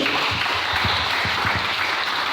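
A church congregation in a tent worship service applauds and cheers the Lord, a steady wash of clapping and crowd noise filling the space evenly throughout.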